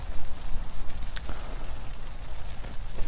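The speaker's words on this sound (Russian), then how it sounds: "Идет такой прям мощный снежок с дождем." Heavy wet snow mixed with rain, driven by gusty northerly wind, pelts a tent during a winter fishing trip, a dense crackling patter over a low, buffeting wind rumble, loud and close throughout.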